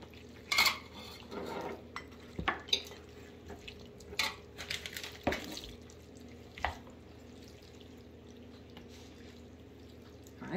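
A spoon scrapes and clinks against a bowl while vegan macaroni and cheese with butternut squash is stirred, in irregular bursts of knocks and wet scrapes that fade into quieter stirring, close by and with no talking.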